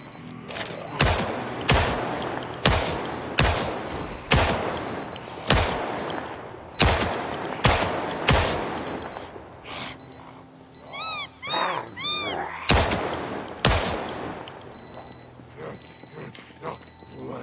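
An M9 pistol and a shotgun fire in the zombie survival game Project Zomboid: around a dozen loud, sharp shots at a steady pace, a short lull with a wavering tonal cry, then a few more blasts.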